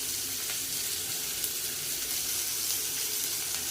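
Chopped onion fries in oil with the tempering for Karnataka lemon rice, a steady, close, moderately quiet sizzle and hiss that holds evenly with faint crackles throughout.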